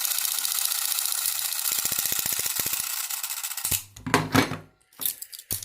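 A Keystone K-27 Capri 8mm film camera runs its mechanism in a steady, close whirring rasp that holds for several seconds, with rapid clicking ticks partway through, then stops and restarts in short bursts.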